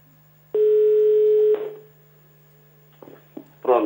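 A telephone line tone after a dropped call during a power cut in L'Aquila plays as one loud, steady beep lasting about a second over a low electrical hum, followed by a few faint clicks and line noises.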